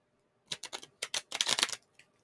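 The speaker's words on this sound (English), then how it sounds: "These cards are so small I can shuffle them on" A rapid series of crisp, flicking riffles of small tarot cards shuffled on a lap, close and clear, in quick bursts with short pauses, ending with a few soft taps.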